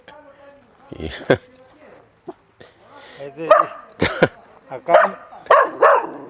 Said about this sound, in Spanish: 犬がうるさいです。